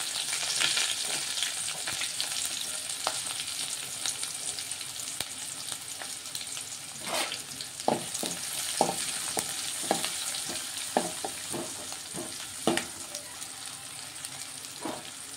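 Chopped onions and green chilies hitting hot oil tempered with mustard seeds and asafoetida, sizzling steadily in a pan with bursts of crackling and spoon stirring scrapes.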